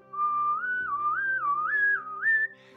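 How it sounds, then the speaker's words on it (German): A person whistles a clear, pure melodic line, stepping up and down through intervals in smooth swoops, close and alone with faint background hum. "Ich kann euch das ganz einfach mal zeigen beim Pfeifen."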